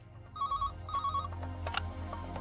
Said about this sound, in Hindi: कन्नी, अबे तुम लोग को यही समय मिलता है क्या फोन करने के लिए?